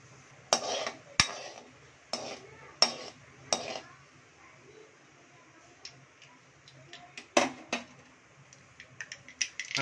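Cumin seeds spluttering in hot oil in a pan after mustard seeds, heard as scattered sharp pops and crackles, some close together and others spaced out, with no one talking.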